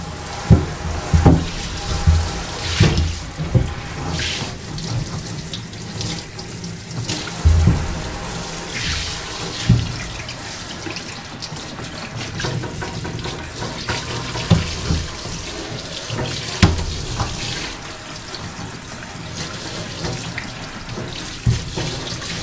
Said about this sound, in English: I'm just in here doing the laundry sink because there's hot water.